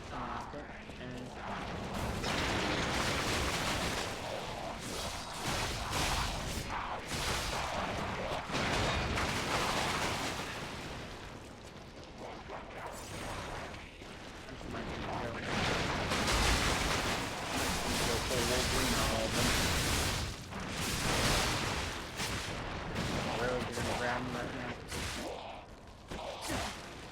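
Gunfire and combat in the action game Lies of P, with repeated loud shots, whooshes and mechanical clanks forming a dense, continuous barrage that runs throughout alongside intermittent talk.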